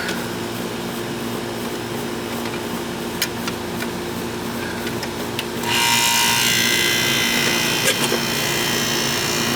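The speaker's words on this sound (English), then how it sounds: "The compressor started that time." An old R22 air conditioning unit's compressor kicks on partway through, a steady low mechanical hum swelling into a louder, broadband whooshing roar that continues close by, with a few faint clicks before it starts.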